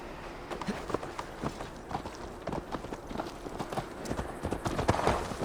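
A horse's hooves clip-clop steadily while being ridden on the long ride to Tamworth in Assassin's Creed Valhalla on PlayStation 5, a brisk, uneven run of hoofbeats at fairly low level with faint ambient sound behind.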